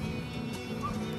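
A horse neighs close by on a Chilean farm with sheep and herding dogs, a sustained whinny over a steady low background, heard alone without talk.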